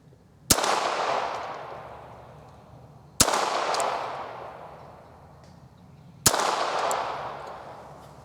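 Three sharp .22 pistol shots firing Sellier & Bellot CLUB ammunition at an outdoor target range, spaced about three seconds apart, each a loud crack followed by a long, fading echo.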